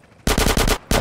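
An SMG fires in Grand Theft Auto San Andreas Definitive Edition: a brief quiet gives way to a loud, rapid burst of shots, a short pause, then more fire.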